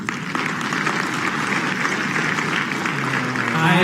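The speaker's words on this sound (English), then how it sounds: "I didn't say clap" Audience at a presidential best teachers award event clapping, a dense, steady wash of many hands throughout, with no talk over it.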